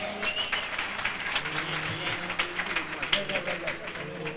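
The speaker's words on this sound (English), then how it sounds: "can we have a nice round of applause for Jersey Dream?" An audience claps steadily for an a cappella vocal group at a live show, a dense, even patter of many hands with a few sharper claps, and faint voices mixed in.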